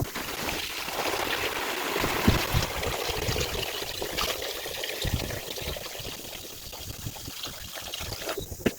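Dirty water drains from the reservoir of a DIY vapor blaster, pouring and trickling steadily at a moderate level throughout, with a few knocks.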